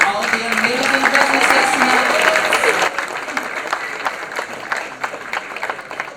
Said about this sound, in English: Can we get one last round of applause for all of the amazing